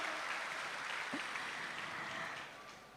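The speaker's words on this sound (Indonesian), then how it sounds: "Buat berikan tepuk tangan luar biasa untuk seluruh peserta" Audience applause at the Conference on Indonesian Foreign Policy 2025, a steady wash of clapping from a large crowd in a hall that fades slightly toward the end.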